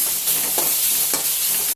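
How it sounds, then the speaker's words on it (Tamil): Finely chopped onions and capsicum sauté in hot oil with cumin in a pan, a steady sizzle broken by a few soft stirring scrapes, close by and with no voices. "பொடியாக நறுக்கின 2 வெங்காயம், கூடவே பொடியாக நறுக்கின கேப்சிகம் சேர்த்துக்கலாம். நல்லா வதங்கட்டும்."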